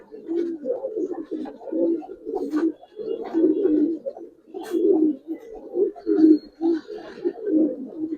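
Giribaz pigeons coo close by in a steady, rhythmic string of low throaty calls, one after another with short gaps, loud and clear with little else around.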